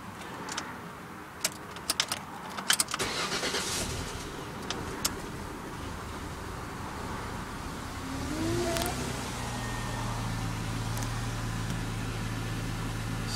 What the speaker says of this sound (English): Can have a go at starting the car now and see if it actually works.